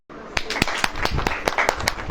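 Audience clapping at a religious sermon gathering, a rhythmic series of loud, close hand claps at a quick steady beat over a murmuring crowd, starting abruptly after a brief silence.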